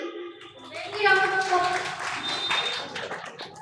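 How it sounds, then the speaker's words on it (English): An audience at a storytelling competition at a literature festival in Singrauli bursts into applause, a dense wash of clapping rising and holding for a few seconds while a voice speaks over it. "Very big round of applause for Kashi."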